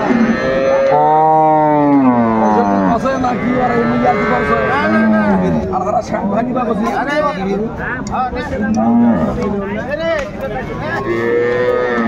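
Cows and calves at a crowded cattle market, lowing in long drawn moos that rise and fall through the whole stretch, loud and near, with people talking and a busy babble of voices around them.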